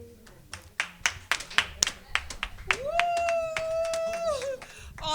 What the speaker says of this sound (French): on applaudit beaucoup